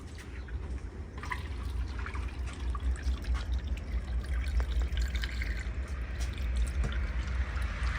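Real chocolate milk is poured into a Honda engine, making a steady, soft gurgling trickle of liquid that runs continuously.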